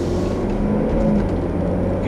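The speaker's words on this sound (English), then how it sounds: "You can hear that BMW V8 just really accelerates this car phenomenally for just how big it is." A 2005 Range Rover's BMW V8 engine hums and pulls steadily under acceleration from inside the cabin, a low continuous drone with mild rising tones over two seconds.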